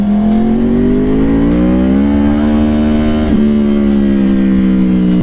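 A Yamaha sport motorcycle engine runs steadily and loudly while riding at night, its pitch rising through acceleration, dipping briefly at a gear change, then holding a constant drone.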